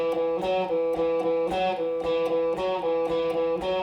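Guitar picks out a boogie woogie melody on the fourth string, a steady run of repeated single notes with a bright, slightly distorted tone, played alone in an even rhythm.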